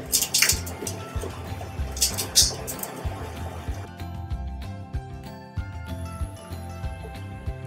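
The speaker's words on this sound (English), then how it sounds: "add in the water" Water splashes and trickles into a pan holding a few tablespoons of butter for melting, close and fairly loud at first, then settling into lighter drips and liquid movement.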